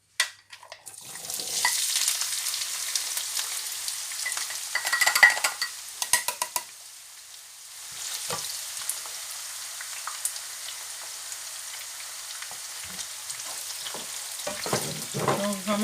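Onions frying in a pan, a bright sizzle with repeated scraping and clinking from stirring. It fades and returns partway through, close and moderately loud, with no voices.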